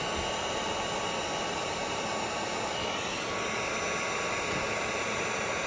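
A heat gun warms old adhesive so it can be scraped up, a steady, loud blowing hiss that holds unchanged throughout with no talking.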